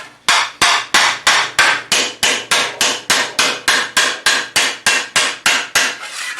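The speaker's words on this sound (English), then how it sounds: "At this point I'm doing my planishing over a kind of a tube stake." A hammer planishes a metal greave over a tube stake in a steady, even series of sharp ringing blows, about three per second, loud and close with no talk.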